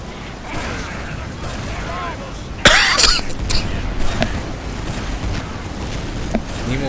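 A single sharp cough bursts out mid-clip, followed by a few weaker coughs and throat sounds, over a steady background of mechanical noise and faint game sounds.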